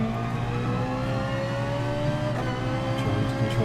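Ferrari 458 engine at Bathurst in the GT Sport video game, a steady sustained drone with a slowly rising pitch as it pulls through a gear, close and continuous.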